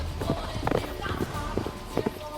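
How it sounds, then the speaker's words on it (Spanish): Horses' hooves clop in a Witcher audiobook scene as riders burst out from behind oak trees, an uneven run of sharp beats close by, with a voice speaking over them. "un grito y un ruido de cascos despejó de súbito la somnolencia"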